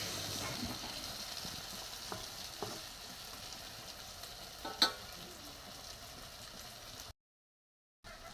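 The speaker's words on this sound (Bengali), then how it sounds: "ভাজা মাছ দিয়ে বেগুন ভাজি করতেছি।" Fish and eggplant fry in a pan in a home kitchen, a steady soft sizzle with occasional stirring scrapes and one sharper clink, no talking, ending in a brief silence.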